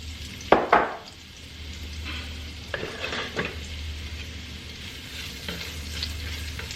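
Chopped onion tossed into a hot pan after searing short ribs, starting a sauce for braised short ribs; a couple of sharp clatters are followed by a steady, close sizzle with occasional stirring scrapes.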